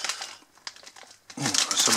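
A hand rummages in a crinkly Leibniz biscuit bag, with loud bursts of plastic crackling and rustling that build toward the end, heard close up.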